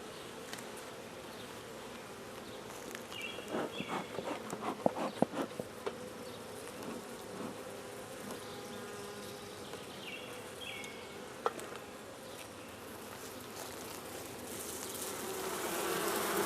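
Honey bees buzz steadily during a hive inspection, a dense swarm hum close by with scattered clicks and handling taps, and no talking.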